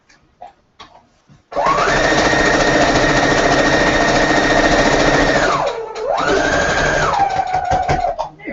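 A sewing machine runs a long steady burst stitching a quilt seam, loud and close, slows briefly, then hums through a second shorter run.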